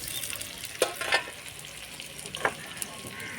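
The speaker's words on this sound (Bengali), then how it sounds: "ভাজা আলুটা দেওয়ার পরে ভাজা পটলটা দিতে হবে।" Fried pointed gourd joins potatoes already frying in oil, setting off a soft, continuous sizzle nearby. A few louder clacks and scrapes of stirring break in at intervals.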